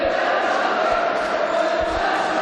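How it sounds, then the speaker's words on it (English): At a varsity court sports match, a crowd screams and cheers in a loud, continuous wash of voices, with occasional thumps underneath. "You can hear the crowd screaming"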